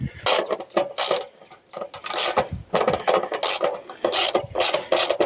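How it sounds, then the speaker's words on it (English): A ratchet turns a small 5/16 nut while a panel is being mounted in a shed. Quick, close, busy clicking comes in uneven bursts, with brief pauses between strokes. "5/16 on a ratchet for that little nut right there"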